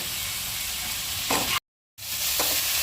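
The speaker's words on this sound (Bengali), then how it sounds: "এবার এটাকে একটু হালকা ফ্রাই করে নিচ্ছি" Chicken pieces with onion fry lightly in a pan, giving a steady close sizzle with a few stirring scrapes, broken by a short gap of silence.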